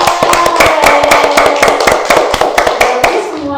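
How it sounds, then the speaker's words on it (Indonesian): Students in an Indonesian classroom clap together in a loud, close, steady rhythm of sharp, evenly spaced claps that carries on throughout. "Minta tepuk tangannya"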